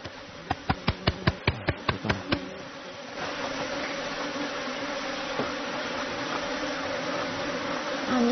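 A swarm of honeybees lifts into the air during an outdoor bee experiment, starting with a run of sharp taps and then giving way to a dense, continuous buzzing drone close by.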